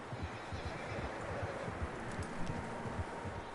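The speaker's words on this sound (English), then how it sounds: "Horses, quite a few of them." Many horses' hooves clip-clop steadily across ground in Red Dead Redemption 2, a dense, continuous patter of low knocks at moderate distance with no talk over it.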